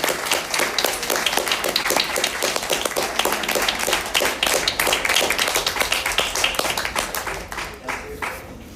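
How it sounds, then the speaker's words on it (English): A comedy club audience in Pleasant Grove, Utah claps and applauds after a stand-up set, a dense, sustained burst of close hand claps that slowly thins and fades near the end. "Let's give Bryan another round of applause."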